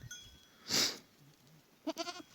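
A young goat gives a short bleat near the end, out on pasture, after a brief hiss of noise; faint and close, no speech.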